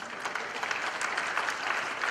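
Congregation applauding for the Lord during a church service, a dense, steady wash of many hands clapping together with no voices over it.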